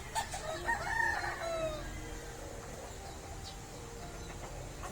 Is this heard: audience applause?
no